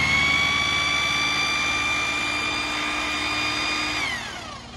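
A used Japanese 100V hammer drill with speed control runs close up, giving a steady, loud, high motor whine that holds level and then starts winding down near the end.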